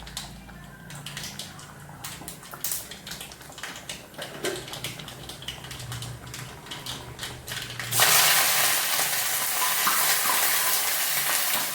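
Mustard seeds crackle and pop in hot oil with sharp, scattered ticks, then a loud, steady sizzle bursts in as curry leaves and thinly sliced shallots hit the pan.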